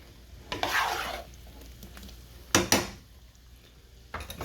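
Garlic butter shrimp are pushed and rocked around a hot pan with a utensil, making short scraping, rubbing strokes over a low, steady sizzle, with a louder clatter midway and no talking.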